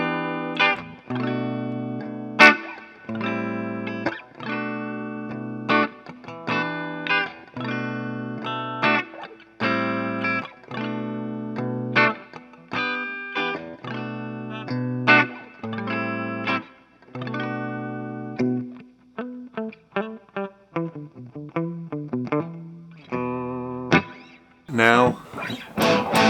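Clean electric guitar on both pickups of an Epiphone Les Paul Special II, strumming rhythmic chord stabs with short gaps, then a run of picked single notes, bright and close with no voices.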